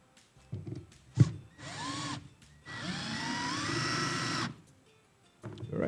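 A power drill whirs in several bursts, a short one then a long sustained run, driving a screw into a jewellery rack at close range with clicks and handling noise between.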